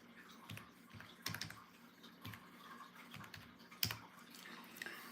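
Typing on a computer keyboard, scattered soft clicks and taps at an uneven pace, fairly quiet and close, with no speech.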